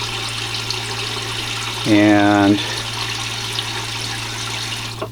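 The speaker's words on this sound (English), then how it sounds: "So I'm just fill the sink up here," Fresh water runs from a tap into the sink aboard a motor vessel while a marine head is being winterized, a short burst of gushing flow over a steady low pump-like hum, with a brief word of talk.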